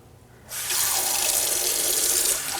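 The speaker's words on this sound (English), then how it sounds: "So let's keep the water on." Tap water starts flowing after about half a second and runs steadily and loudly into a sink during a handwashing routine, a constant close rush with no talk.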